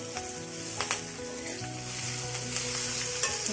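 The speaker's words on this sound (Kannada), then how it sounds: "ಹಾಕೋತಾ ಇದ್ದೀನಿ ಕರ್ಬೇವಿನ ಸೊಪ್ಪು ಹಾಕಿ" Fresh curry leaves fry in a pan for a curry-leaf chutney powder, giving a steady sizzle with crackling pops and occasional stirring throughout, close and moderately loud with no talking.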